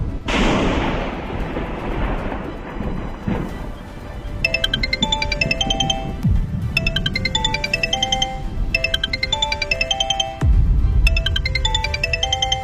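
A phone ringtone for an incoming call from mother plays as a repeating electronic melody in bursts, fairly loud, after a stretch of noisy rumble with no talking.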